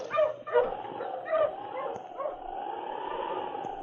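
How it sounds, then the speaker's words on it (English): Huskies from a 1950 Yukon radio drama bark and yip in quick bursts, then whimper and whine steadily, fairly close and loud, with no talk over them. "All right, you huskies."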